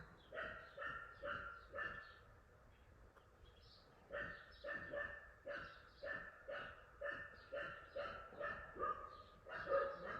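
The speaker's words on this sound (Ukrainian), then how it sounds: "Вона буде гавкати." A dog barks repeatedly in a steady rhythm, about a dozen sharp barks, heard from some distance with no talking.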